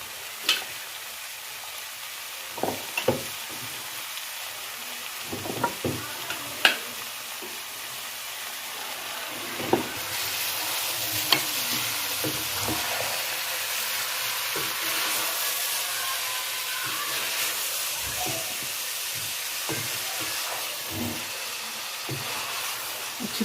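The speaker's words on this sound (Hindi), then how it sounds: "अब इसी कढ़ाई में मैं ये गोश्त भी सारा डाल दूँगी" Mutton sizzles in hot oil in a kadai, a steady frying hiss with scattered scrapes and clacks as the meat is stirred, close and moderately loud with no talking.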